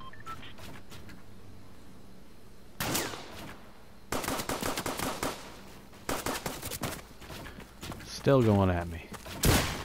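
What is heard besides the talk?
gunfire from a video game, sniper shots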